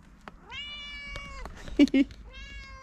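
Several drawn-out cat meows with clear rising and falling pitch, close by at home, with a pause between calls and a couple of short knocks in the middle.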